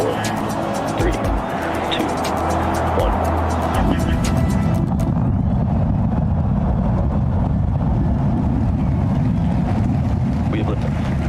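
A rocket lifting off at Starbase sends out a broad, rumbling roar that builds and holds steady and loud, heard from a distance, with a voice speaking in the first seconds.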